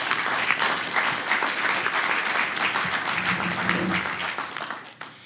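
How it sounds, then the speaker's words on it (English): Audience applause fills a large hall at an organisation's 100th anniversary gala and installation, a dense, steady clapping from many hands that holds for several seconds before tapering off at the end, with faint murmuring beneath. "So how about a round of applause for over 100 years of leadership and service from RAFV's volunteer leaders and staff."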